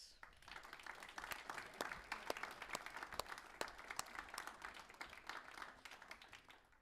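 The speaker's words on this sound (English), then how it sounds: "One more round of applause." Audience applause at a university sports awards ceremony, a sustained round of clapping with distinct individual claps standing out, fairly distant and quiet throughout.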